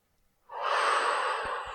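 A steady, audible breath held in a yoga twist, rising after a quiet start into a long, airy exhale-like rush that lasts over a second, close and alone with no talk.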